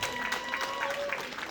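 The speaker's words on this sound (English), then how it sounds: "this community deserves to give you a round of applause one more time" An audience at a community end-of-year event claps in a steady, continuous round of applause, with faint sustained tones and some crowd murmur underneath.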